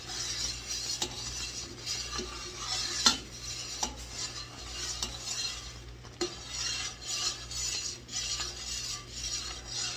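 A spoon scrapes and clinks around a pot of bubbling, boiling strawberry rhubarb jam, steady stirring with occasional sharper knocks over a low constant hum.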